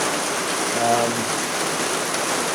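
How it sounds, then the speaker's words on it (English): Steady rain falling outdoors, a dense, even hiss of drops on surfaces that holds at a constant level throughout, with a faint low hum briefly underneath. "excuse the noise, that's called rain."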